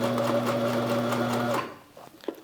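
Sears Kenmore sewing machine running a stretch stitch, a loud steady mechanical whir with rapid needle rhythm for about a second and a half, then stopping into faint handling noises.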